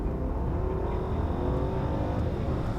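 Mercedes S-Class with a twin-turbo V12 accelerating hard, a steady smooth engine drone heard from inside the cabin, rising gently in pitch throughout.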